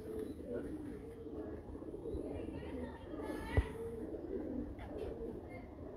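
Pigeons on a rooftop loft in Kasur give soft, low, repeated coos in the background beneath steady ambient noise, with one sharp tap partway through.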